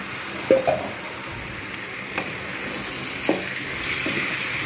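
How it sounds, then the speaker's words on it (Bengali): Marinated chicken goes into a hot pan for a potato chicken curry, raising a steady sizzle with a few soft clunks and stirring sounds at close range. "এবার আমি এর মধ্যে দিয়ে দেবো ম্যারিনেট করে রাখা চিকেনটা"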